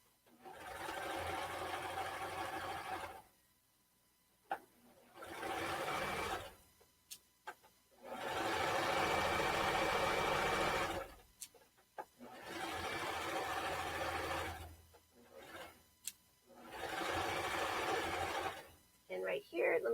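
A sewing machine stitches a draped tank top in several steady runs of a few seconds each, separated by short pauses with faint clicks and handling noise, close and moderately loud.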